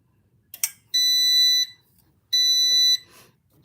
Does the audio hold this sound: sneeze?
no